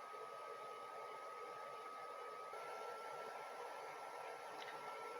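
A small cooling fan in a battery charger, charging a 12V 100Ah LiFePO4 battery, whirs steadily with an even hiss and a faint high whine, constant throughout and fairly quiet.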